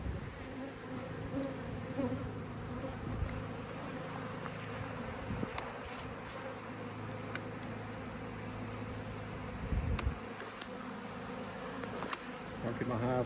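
Package honey bees swarm during a hive installation, their dense continuous buzzing close by and moderately quiet, with individual bees flying past the microphone and faint handling noises underneath.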